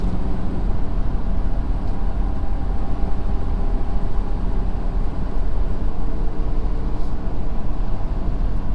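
A 2020 Ford Super Duty pickup with a 10-speed transmission hauls an 18,000 lb trailer in sixth gear on the highway, its steady, loud low engine drone mixing with road rumble and no pause throughout.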